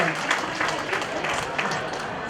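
An audience at a community fundraising event applauds to welcome a district party leader to the stage, a moderate patter of clapping with a talking voice over it.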